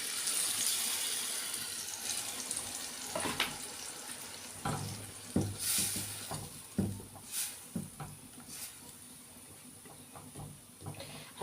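Squeezed red tomatoes, about six, poured into a cooking pot over garlic, giving a close, wet splashing sizzle that settles into scattered bubbling and stirring sounds, with no talking.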